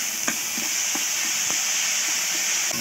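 Ginger and garlic sizzling in a pan of frying onions for egg curry, a steady bright hiss punctuated by soft stirring scrapes at regular intervals, close and moderately loud.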